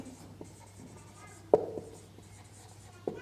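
Chalk or marker on a board during a math lesson, giving faint scratchy strokes with a couple of sharper taps as letters are written, quiet and close with no talk over them.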